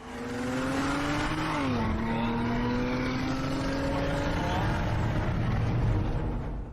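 A BMW X4 M40i racing a Porsche, engine droning loud and steady as it accelerates, pitch climbing through the gears with a brief dip at a gear change, heard continuously from nearby.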